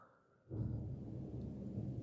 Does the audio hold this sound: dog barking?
no